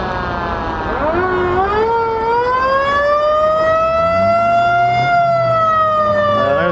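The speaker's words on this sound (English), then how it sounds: "There's siren sounders." Fire truck siren at a small-town parade wails loudly and close, rising and sustaining in a long steady tone over low vehicle rumble.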